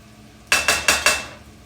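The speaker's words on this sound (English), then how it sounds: "So I'm just going to push my shallots right into that area." Shallots pushed across a sauté pan with a utensil, four quick close scraping strokes in a row after a moment of quiet, each fading fast.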